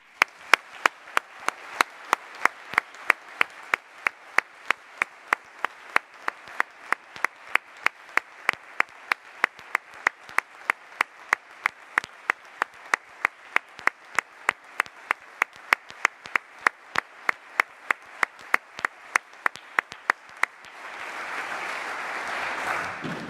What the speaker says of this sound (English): a massive round of applause to show our love for the Jewish community